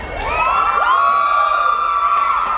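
A crowd of young people on a student cruise cheers and whoops loudly, with sustained shouts and whistle-like cries close by in an enclosed space.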